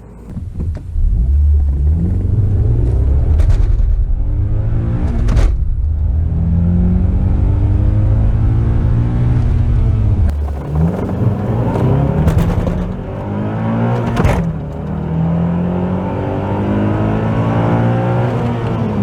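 Honda Accord Type S launching hard and accelerating, a loud close engine roar climbing through the gears with brief dips at each shift, then holding a steady drone near the end, no talk.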